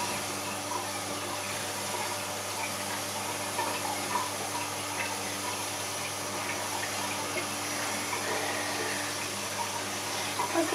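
Water runs steadily from a tap into a sink at home, a continuous soft hiss at moderate distance with slight fluctuations throughout.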